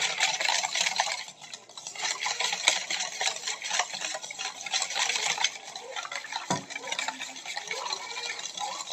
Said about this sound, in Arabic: تقلبي بقى لحد ما كل حاجة تدوب معاكي